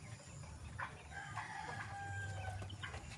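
Quails on a backyard farm call faintly, with short chirping notes and a few drawn-out tones over a low background hum.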